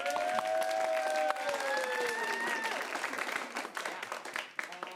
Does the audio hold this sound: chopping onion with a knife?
no